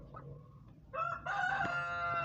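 An Ayam Cemani rooster, an all-black chicken breed, crows loudly and close by in one drawn-out call. Faint clucking comes before the crow.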